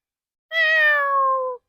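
A voice imitates a cat, producing a single clear, drawn-out meow of about a second that starts bright and slides slightly downward, close and loud against silence.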